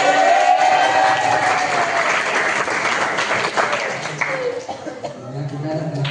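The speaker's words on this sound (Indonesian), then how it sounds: "Tepuk tangan dulu dong, yang meriah." Lively applause and clapping from a school audience at a motivational talk, a dense steady wash of claps with some chuckles that thins slightly toward the end, with a voice speaking over it.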